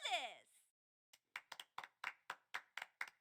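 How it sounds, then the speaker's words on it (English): In the fighting game Persona 4 Arena Ultimax, a brief rising vocal whoop, then about ten sharp hand claps in a slow, even rhythm, close by and otherwise quiet. "I don't think the applause is necessary."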